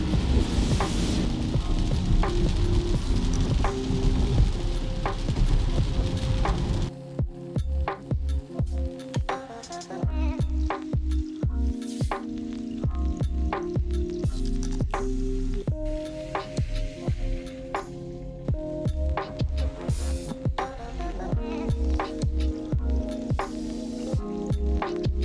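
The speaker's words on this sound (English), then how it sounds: "the rain should kind of taper off" Steady rain makes a hissing wash that later thins into irregular drips and taps, with a low rumble underneath throughout.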